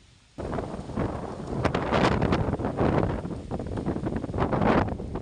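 Strong gusting wind buffets the microphone in a loud, roaring rush that starts abruptly and swells and fades in waves.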